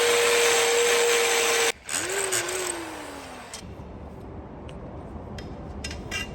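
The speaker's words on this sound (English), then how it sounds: "Drilling into this table bracket because it came plain without any screw holes." A power drill whines steadily, drilling screw holes into a plain metal table bracket during a camper van build, then stops and spins back up with a falling pitch before settling into quieter rattling and clicks.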